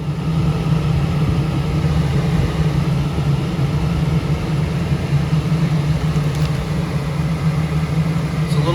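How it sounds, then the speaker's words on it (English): A blower motor runs steadily in an older Rheem gas furnace, giving a constant low hum with a strong steady tone and an even, unbroken level throughout. "let's get the amp meter and we're gonna test the blower motor"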